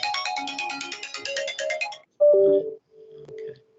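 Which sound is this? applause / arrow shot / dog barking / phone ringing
phone ringing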